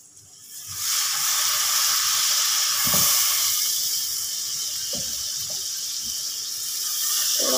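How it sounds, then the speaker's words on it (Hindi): Water poured into a pan of spices frying for a sour potato dish, hissing and sizzling loudly with a steady burst of steam that holds for several seconds. Faint clinks and stirring noises sit underneath. "थोड़ा सा पानी ऐड करेंगे ताकि हमारे मसाले जले ना"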